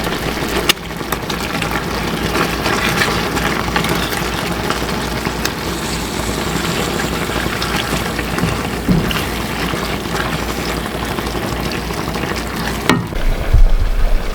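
Pasta sizzles loudly in a hot pan, a dense continuous crackle with occasional stirring scrapes that ends abruptly near the close, leaving a low thump.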